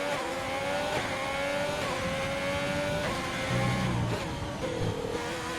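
A Formula 1 car races around the Chinese Grand Prix circuit in the F1 2020 video game, its high-pitched engine whine climbing steadily through gear changes, loud and continuous with no talk.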